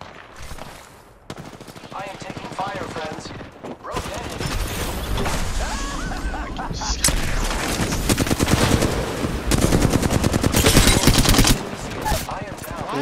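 Rapid automatic gunfire and single shots in an Apex Legends ranked match, loud and continuous, with bursts building in intensity over busy game effects; no speech in the clip.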